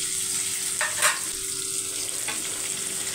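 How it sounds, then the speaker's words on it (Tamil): Onion and lentils sauté in a pan with a steady, even hiss and a couple of faint stirring scrapes, heard alone without any talking. "இது ஒரு பக்கம் இப்போ வதங்கட்டும்."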